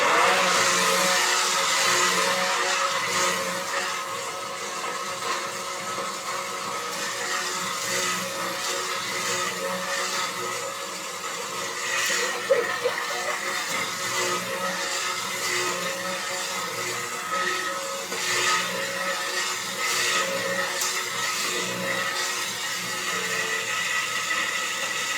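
A blender whirs continuously inside a pot, pureeing sweet potato, cauliflower and beet soup, a steady loud motor drone with slight shifts in pitch as it moves through the thick mixture.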